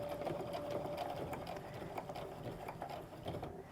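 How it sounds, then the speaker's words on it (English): A sewing machine stitches back and forth across a crossbody sling bag in a quick, steady mechanical patter, close and fairly quiet, running without pause. "I'm going to stitch back and forth this way a couple times to get that good and secure."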